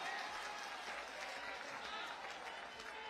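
Faint, steady crowd applause welcomes the Samajwadi Party national president onto the stage at a press conference in Lucknow, a continuous patter of many hands heard from a distance.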